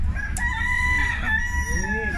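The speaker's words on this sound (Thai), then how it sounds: "นี่ครับไก่ป่าก็เยอะครับ" A wild junglefowl rooster crows at a forest temple, a clear, drawn-out crow rising and falling over about two seconds against steady low background noise.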